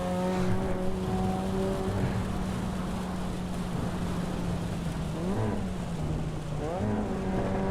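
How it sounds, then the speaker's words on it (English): Rain in the Assetto Corsa EVO racing game: a steady hiss of rainfall over a droning race car engine whose pitch dips and swells with gear changes, with no voices. "The rain sound effects are brilliant."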